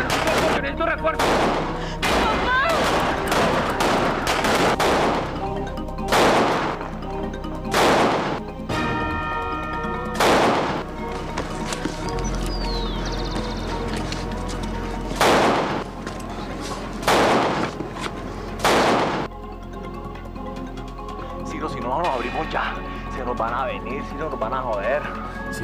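Gunfire in a police shootout, with repeated loud, close bursts of shots scattered through the scene, heard alongside shouting voices and background commotion.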